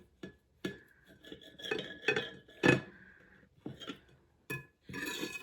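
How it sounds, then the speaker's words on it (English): A serrated knife saws through a warm Swiss roll cake on a plate, giving a series of close scraping strokes with small clinks of metal on china. "Use a serrated knife to cut."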